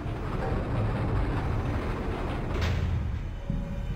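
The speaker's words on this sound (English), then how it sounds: "I think that engages the little trains on the tracks" Small trains rolling along tracks in the industrial quarter of the video game Legacy of Kain: Blood Omen 2, a continuous low rumbling rattle with a brief rising whoosh near the end.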